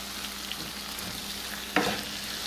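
Seasoned hamburger meat gets stirred in a sizzling pan, a steady soft frying hiss broken by one sharp scrape of a utensil near the end.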